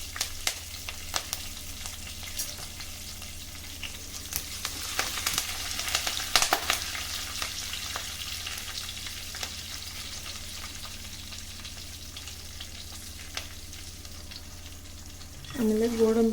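Curry leaves and green chillies fry in hot oil, giving a steady soft sizzle with scattered crackles and pops. A few clinks of stirring come through, and a louder burst of activity at the end.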